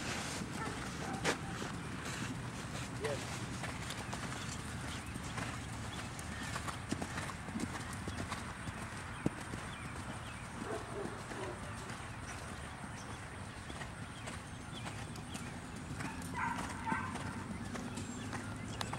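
Horse hooves thudding on footing during a jumping lesson at Waredaca, an irregular clip-clop under continuous outdoor background noise, with occasional brief knocks.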